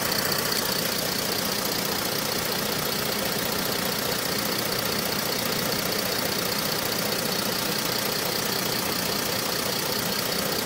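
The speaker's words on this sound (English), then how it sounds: "it's essential to have the engine running, transmission in park, have the engine idle" A Mercedes W204 C-Class engine idles in park with its 7G-Tronic 722.9 automatic transmission during a fluid service, a steady, even hum that continues throughout with no talk.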